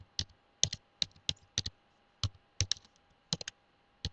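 Keys on a computer keyboard clatter in short, irregular bursts of crisp clicks with brief pauses between, close and alone in a quiet room.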